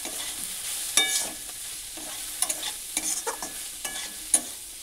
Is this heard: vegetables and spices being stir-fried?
yes